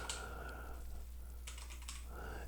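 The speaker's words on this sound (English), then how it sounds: "then you're going to type in your access code" Someone types an access code on a computer keyboard, with a few quick soft clicks in short bursts over a steady low background hum, close and quiet.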